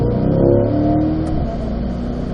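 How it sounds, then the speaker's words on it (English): A car accelerating in fourth gear around a race track during a lead-follow driving session, a steady loud engine drone with rising harmonics, constant and close throughout. "We're fourth gear here, Conrad."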